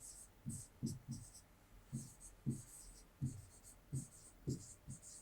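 A pen or pencil writes notes on paper in a science lesson. Quiet, close scratching comes in short rhythmic bursts, roughly one stroke group every half second, with no speech over it.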